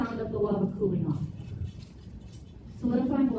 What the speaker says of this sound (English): this is the sound of the lava cooling off.